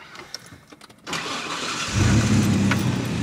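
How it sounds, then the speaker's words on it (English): A truck engine cranks briefly and fires up, settling into a loud, rumbling idle close by after some faint handling noises. "Start the truck."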